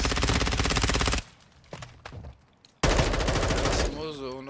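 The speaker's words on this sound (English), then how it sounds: "You are taking effective fire." Gunfire in a shooter video game: loud rapid automatic bursts, a quieter gap with scattered single shots, then another long heavy burst that gives way to chirping game effects.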